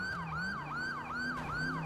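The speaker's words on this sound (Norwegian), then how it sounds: "så blæster de sirene" Police backup sirens from GTA V with the LSPDFR mod wail loud and close in a continuous up-and-down cycle, about four sweeps in under two seconds, over a low engine hum.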